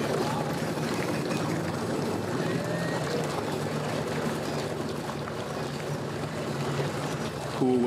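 A motorboat engine drones steadily at close range, with wind and water noise over a constant low hum.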